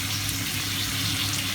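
Carrots with chillies and boiled peas fry in a pan for a Manchurian and egg fried rice dish, giving a steady, close, loud sizzle with no talking.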